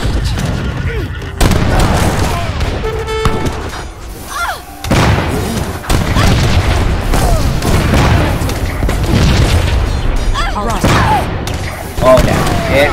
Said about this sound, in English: Try to fit some cannon balls into their face.